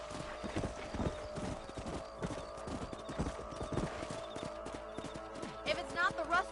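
Horse hooves clip-clop in a steady, close rhythm in Red Dead Redemption, with a brief whinny near the end, while voices talk over the riding.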